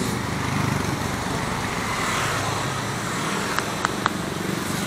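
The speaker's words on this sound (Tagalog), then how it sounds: "Ayan na ang traffic, tuloy-tuloy na yan." Steady road traffic in Manggahan, Pasig, heard while riding a Yamaha Mio i 125 scooter. A continuous broad roar of engines and wind with a few faint clicks near the end, and no talking.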